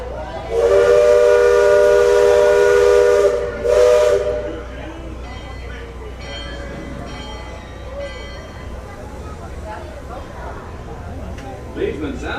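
A boat's loud, piercing steam whistle blasts for about three seconds, followed by a short second toot, then fades into hissing and muffled voices, at Magic Kingdom, Walt Disney World, Florida.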